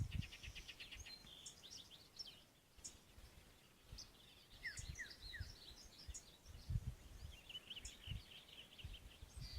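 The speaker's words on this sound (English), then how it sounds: "I heard birds, heard some quiet" Birds singing outdoors near an oak tree, faint scattered chirps and short whistled phrases in a quiet setting, with soft low rumbles of background noise.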